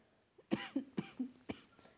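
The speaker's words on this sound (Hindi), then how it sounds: "मुझे बोलने में थोड़ी प्रॉब्लम हो रही है खांसी आ रही है" A man coughs repeatedly at close range, a rapid run of four or five dry, hoarse coughs in under two seconds, with no speech.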